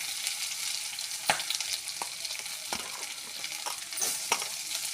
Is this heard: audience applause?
no